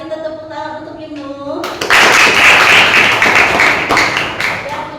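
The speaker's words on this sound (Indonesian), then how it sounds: "Mari kita tepuk tangan untuk Ibnu" A classroom of pupils bursts into a loud round of clapping for a classmate, rising suddenly after a teacher's voice and continuing busily for several seconds.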